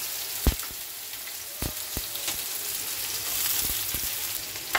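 Garlic and green chilli tempering with black cumin sizzling in hot oil, a continuous bright crackling hiss with a few sharp pops and clicks, close and fairly steady.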